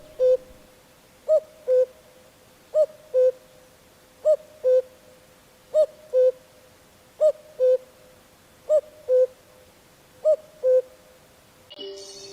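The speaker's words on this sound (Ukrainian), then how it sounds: "Зозуля." A cuckoo calls steadily in spring, a clear two-note coo-koo repeated about nine times at an even pace, mid-distance, with no voices, followed by a short different sound at the end.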